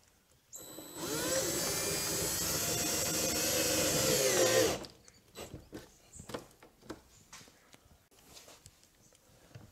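Power drill driving screws to secure wire trunking into a wall and wooden stud, a loud whirring burst of about four seconds followed by scattered clicks and handling knocks.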